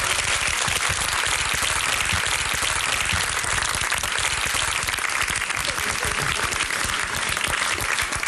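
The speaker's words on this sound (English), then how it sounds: "give him a round of applause" An audience gives sustained, loud applause for a young performer, dense continuous clapping from many hands that holds steady throughout without a break.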